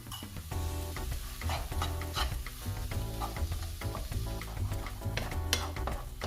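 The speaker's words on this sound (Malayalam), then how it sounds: "ചെറുതായിട്ട് അരിഞ്ഞു വെച്ചേക്കുന്ന ചിക്കൻ ഉണ്ട്, ചിക്കൻ ഇടാം." Chopped chicken with salt sizzles in a frying pan while it is stirred. The frying hiss is steady throughout, broken by frequent scraping and clinking strokes of the spoon, heard close up with no talking.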